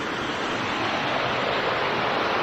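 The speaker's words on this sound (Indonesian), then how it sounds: "Ini ada aliran sungai." Steady broadband rush of a river stream flowing near a gateway in Malang, Java, continuous and fairly loud throughout with no speech over it.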